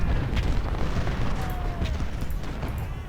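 Battlefield artillery batteries fire in the Civil War strategy game Ultimate General: Civil War, heard as a continuous, dense rumble of overlapping booms and low blasts that stays loud throughout without a break.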